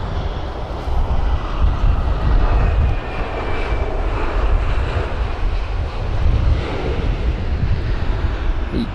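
An airliner comes in to land in strong wind at London Heathrow, its jet engines a loud, steady roar with gusty rumble throughout.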